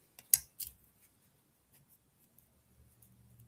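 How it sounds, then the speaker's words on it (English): Jewelry wire is trimmed with cutters while a coil is made, giving two sharp, close snips in quick succession followed by faint handling noise. "I'm going to bring this just and trim just a tiny bit"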